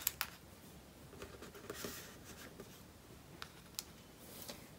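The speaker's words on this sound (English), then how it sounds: "I'm going to take some scrap white paper and I'm going to draw an eye" Pencil scratches softly across scrap white paper while an eye is drawn, faint intermittent strokes with a few sharper taps, quiet and close with no talking.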